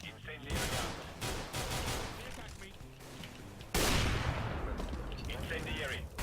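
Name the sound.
incendiary grenade in video game CS:GO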